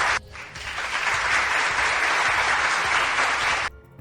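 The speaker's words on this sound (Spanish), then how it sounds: "Déjame darle un aplauso ya al Super Yasser." Applause from an audience, a steady wash of many hands clapping that starts abruptly, holds evenly for a few seconds and cuts off sharply, with no voices over it.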